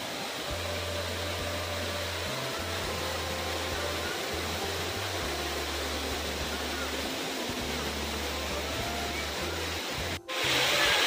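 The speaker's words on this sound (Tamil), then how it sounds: "எனக்கு பின்னாடி இருக்கிறது தான் கும்பகரை நீர்வீழ்ச்சி." Kumbakkarai waterfall pouring as a steady, loud broadband roar, with a low droning hum layered underneath and a brief break near the end.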